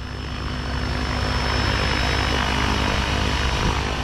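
RC helicopter hovering outdoors, a loud steady whine from rotor and motor holding an even pitch, close and continuous.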